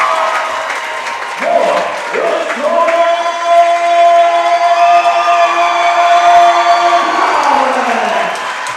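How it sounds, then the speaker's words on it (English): A high-school boys basketball championship crowd cheers and applauds through team introductions, loud and sustained, with a steady horn-like tone sounding over the roar for several seconds. "This crowd definitely getting fired up, and crowd getting bigger as we speak"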